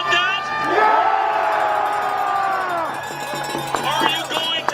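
A large crowd at an Alberta independence rally of around 20,000 people cheers and shouts, with sustained raised voices and whoops swelling together, then breaking into scattered calls near the end.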